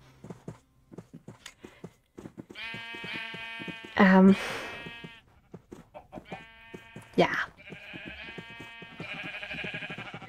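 Pink sheep in Minecraft bleat several times, nasal, wavering calls spaced a second or two apart, one sharper and louder, while a person talks over them.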